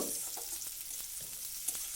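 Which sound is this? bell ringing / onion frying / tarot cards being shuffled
onion frying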